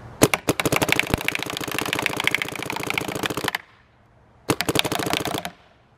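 A Dye M2 MOS Air paintball marker fires in outlaw mode, a loud, close burst of very rapid machine-gun-like shots lasting several seconds, a brief pause, then a second shorter burst.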